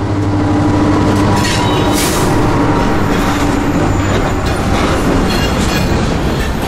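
A short local freight train of four boxcars rolls along the railroad track, a steady loud rumble of wheels on rail with faint clickety-clack and a hint of squeal throughout, no voices.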